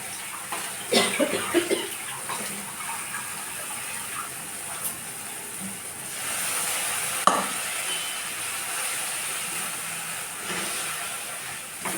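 Spices with Kashmiri chilli powder sauté in a pan for a Bengali vegetarian bottle gourd dish, giving a steady soft hiss and stir with a few scraping knocks, moderately quiet and without talk.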